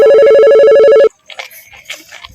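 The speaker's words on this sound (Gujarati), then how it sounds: "કોનો ફોન આવ્યો?" A telephone rings with a steady electronic tone for about a second, loud and close, then cuts off into quiet rustling.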